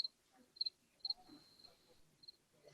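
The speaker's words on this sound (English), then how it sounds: "There are some crickets, the breeze, the fan in the room." Crickets chirp outdoors in short, high, faint bursts that come repeatedly against a quiet background of breeze and a room fan.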